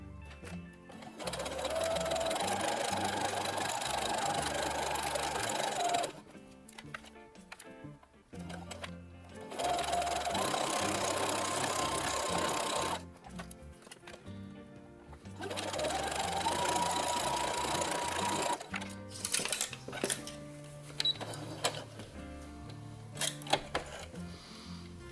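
A sewing machine topstitches pockets on a Star Wars jumpsuit in three long, steady runs separated by short pauses filled with handling noises.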